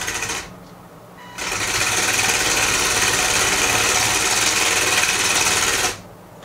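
A small Lego WALL-E robot, built with Bluetooth remote control, whirs under motor power, driving forward, reversing and spinning in a steady high-pitched buzz that rises abruptly and holds for about five seconds before cutting off.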